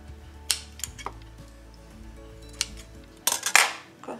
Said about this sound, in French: Je le coupe.